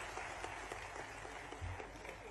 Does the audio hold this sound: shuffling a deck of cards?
no